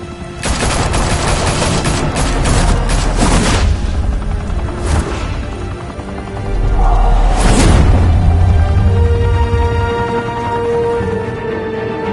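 Video game gunfire in a Gotham mafia high-rise shootout: loud, dense bursts of rapid shots and booms at close range, easing into sporadic cracks and whooshes with a low rumble underneath.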